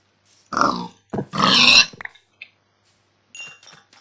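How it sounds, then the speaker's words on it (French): A Minecraft pig grunts a few times in short, gruff snorts, followed by faint metallic clinks and then quiet. "Cochon."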